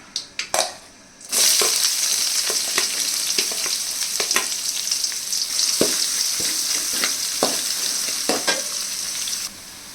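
Onions dropped into hot oil burst into a loud, dense sizzle after a few clanks, then keep frying steadily while a spatula scrapes and taps the pan at irregular intervals.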